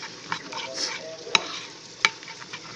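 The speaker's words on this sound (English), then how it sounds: "I'm gonna make sure I mix my thickener well" Thickener is stirred and mixed for a Nigerian meat pie filling, giving a soft continuous scraping swish with two sharp utensil clinks against the bowl, close and unaccompanied by talk.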